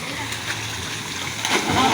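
Close splashing water from a waterfall at a private resort in Cavite rushes in a steady wash that swells toward the end, with voices faintly present.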